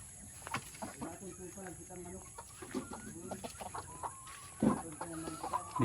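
Chickens cluck repeatedly at close range in a farm coop, giving a busy scatter of short calls, while someone talks over them.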